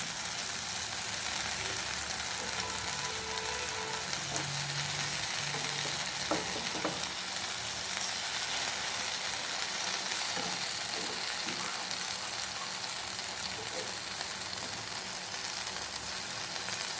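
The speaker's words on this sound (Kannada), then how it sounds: "ಹಾಗೆ ಈರುಳ್ಳಿ ಕೂಡ ಸ್ವಲ್ಪ ಫ್ರೈ ಮಾಡ್ಕೊಳ್ಳಿ." Onions frying in a pan as a topping for a tandoori paneer pizza, a steady hiss of sizzling oil that runs unbroken throughout, close up and with no voices.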